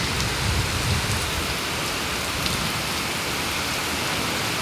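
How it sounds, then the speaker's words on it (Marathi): Heavy monsoon rain pours down steadily with strong wind and lightning, a dense, loud hiss of drops on surfaces with no break, filling the whole scene. "खूप पाऊस खूप पाऊस आहे"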